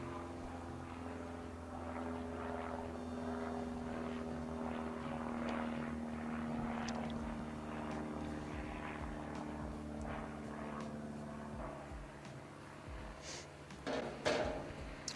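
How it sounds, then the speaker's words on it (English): A propeller airplane drones overhead for a long stretch, its steady engine hum holding fairly loud with a slight rise and fall, with a few brief sharper sounds near the end. "Wait for the plane."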